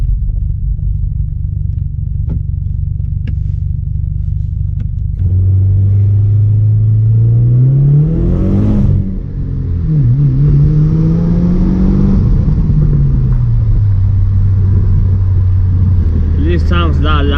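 A 2016 Subaru WRX engine and exhaust drone from inside the cabin while driving, starting as a steady low rumble, then rising and falling through revs with gear changes, a brief dip midway, and someone talking over it.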